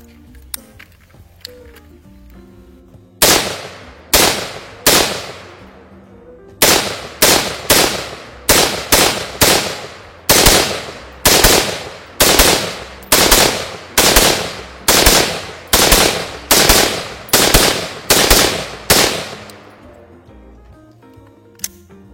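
A Troy TPR Defender rifle with an 11.5 inch barrel, built for suppressed use, firing a long string of loud, close shots, first a pause, then steady rapid semi-automatic bursts with short gaps between groups.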